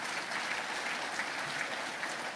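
Steady applause from an audience at a Guyanese diaspora gathering in Canada, a dense even wash of many hands clapping with no pauses, heard alone at moderate level.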